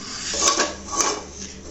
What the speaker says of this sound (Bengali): এখন আমি তাওয়াটা চড়িয়ে দেবো।